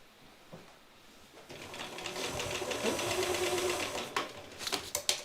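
A malfunctioning sewing machine stitches through fabric scraps while sewing a bag lining, a fast rhythmic mechanical whirr and clatter that builds and runs for a few seconds, then stops with a few clicks.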